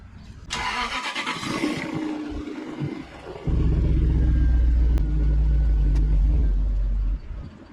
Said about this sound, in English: you get to hear it start